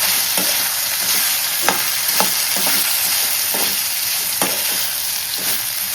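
Sliced potatoes for Gujarati potato sambharo sizzle steadily in a pan over a very low gas flame, a constant frying hiss with occasional soft stirring clicks and no talk.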